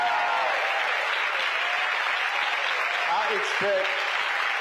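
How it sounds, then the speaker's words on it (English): Audience applause for a panel at a church gathering, a steady dense wash of clapping lasting throughout, with a few voices and a brief whoop near the end. "Let's give the panel a round of applause."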